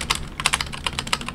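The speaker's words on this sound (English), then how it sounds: "when I want to increase my share size, press shift A" Keys clatter on a computer keyboard while shift-letter hotkeys are pressed in DAS Trader Pro, a quick close run of about a dozen crisp taps with no talk.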